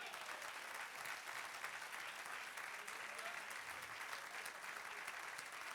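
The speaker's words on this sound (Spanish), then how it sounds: "dale aplauso, sí, celébralo" Church congregation applauding during a sermon: a continuous, fairly faint wash of many hands clapping, steady from start to finish, with scattered voices buried underneath.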